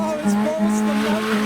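A Nissan Micra pulls away from a car show, a sustained tonal whine like tire squeal holding over engine noise, with some voices or crowd sound mixed in.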